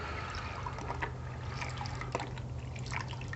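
Water rinsing soap off a part from a Honda GC160 engine carburetor on a Cub Cadet tiller, a steady trickling and splashing stream with small drips, close and fairly quiet.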